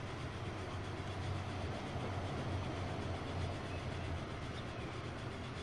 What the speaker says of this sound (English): there's a huge freight train here that's in front of me